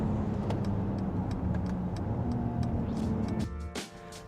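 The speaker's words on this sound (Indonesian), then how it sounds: "Karena AMG itu sangat concern ke suara mesin" A 2020 Mercedes-AMG GLE 53 Coupe with a turbocharged six-cylinder engine drones steadily from inside the cabin under acceleration, then the engine note drops and shifts near the end.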